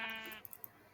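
A Minecraft sheep in the 1.8.8 version of the game gives a single clear, nasal bleat that fills the first part of the moment and then breaks off, leaving a few faint clicks behind.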